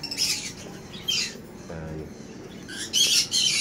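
Caged birds squawking in bursts, harsh calls near the start, around one second and again near the end, with faint chirps and rustling between; fairly close and no talking.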